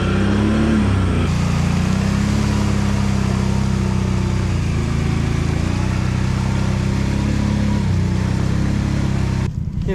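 A 2022 Can-Am Outlander 570 XMR ATV engine drones loud and steady while riding through mud on 27–28 inch tires, a continuous close rumble with slight rises in revs throughout.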